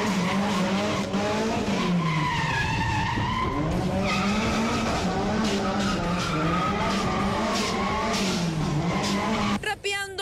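Car tires squeal and skid loudly and continuously during reckless maneuvers on an industrial street, with the engine revving underneath throughout.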